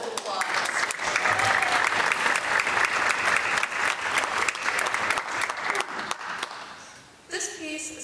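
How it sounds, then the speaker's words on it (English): Audience at a high school orchestra spring concert claps in a dense, sustained round of applause, with scattered sharp claps standing out, then it stops abruptly and a voice begins speaking. "Please give them a round of applause."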